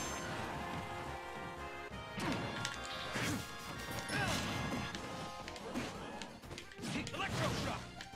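Forward smash and dash attack hits in Super Smash Bros Ultimate land as a run of loud, punchy crashes and whacks over busy game sounds, with someone talking over the action.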